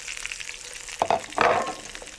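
Three sliced Spanish onions hitting a hot pan and frying for a 1970s chicken recipe, with a steady soft sizzle swelling into two louder bursts of crackling as they land and are stirred, no talking.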